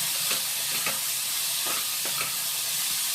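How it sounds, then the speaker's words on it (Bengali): Chopped cauliflower frying in oil with salt and turmeric for paratha stuffing, giving a steady close sizzle and hiss with occasional stirring scrapes, no voices. "তেলের মধ্যে আমি ভেজে নিচ্ছি নুন হলুদ দিয়ে"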